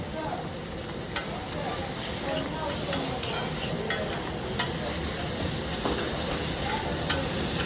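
Eggs frying in a pan with sauce and tomato give a steady close sizzle and hiss, with occasional light clicks of stirring and no talk over it.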